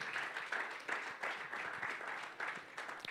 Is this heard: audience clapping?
yes